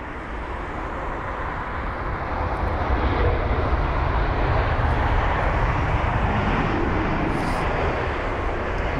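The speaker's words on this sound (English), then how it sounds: "Now we have got a Turkish Airlines A321 Neo once again." Turkish Airlines Airbus A321neo jet at London Heathrow, a steady broadband engine roar held at even loudness throughout, with no voices over it.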